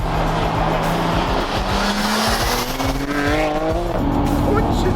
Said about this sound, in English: Oh, you can hear the turbo going.